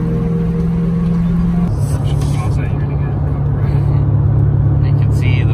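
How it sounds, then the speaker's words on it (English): Car driving along a road, a steady low engine and road rumble that shifts slightly in tone partway through, with some brief higher rustles above it. "so we're driving back to where we left Jason, and hopefully the sun's still out"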